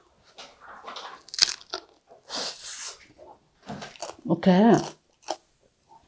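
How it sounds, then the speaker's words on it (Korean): A pea glutinous rice cake with a crispy, scorched bottom is eaten, with a few close crunching bites mixed in among a person's speech. "완두콩 찰떡을 한번 먹어볼까요?"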